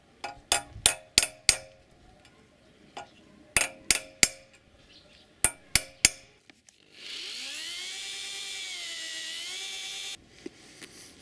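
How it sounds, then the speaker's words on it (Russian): A hammer taps a nail, used as a punch, lightly against a cast-iron part in quick clusters of sharp metallic strikes, close and distinct, followed by several seconds of a steady high drill whine. "Стукаем тихонько, чтобы не разбить чугун."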